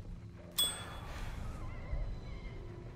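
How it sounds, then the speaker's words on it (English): A single bright bell strike in the horror game Alone in the Dark, struck once sharply and then ringing out in a shimmering decay over a low ambient hum. "No, it's just a bell."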